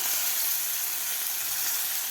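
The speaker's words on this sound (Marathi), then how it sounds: "फोडणीत घातल्यामुळे आपला लसूण थोडासा फ्राय होतो" Crushed garlic-chili thecha sizzles in hot tempering oil as a continuous close, bright hiss with no talk.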